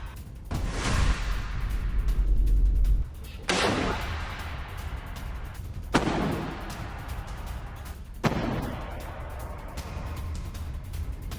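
Sniper gunfire in war news footage of an attack on an Israeli soldier: four loud, sharp reports spaced a few seconds apart, each with a long echoing rumble, no speech.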